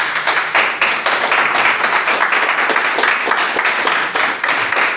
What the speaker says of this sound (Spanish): Dale un fuerte aplauso a Dios, eso.